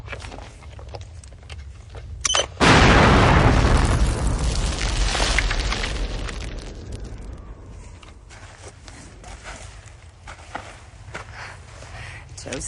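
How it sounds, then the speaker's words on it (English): A magnet charge detonates in a film scene, bursting in as a sudden loud boom that rumbles and fades over several seconds, with surrounding movement and scattered sharp noises before and after. "Once it's in, I electronically explode the magnet charge in the center."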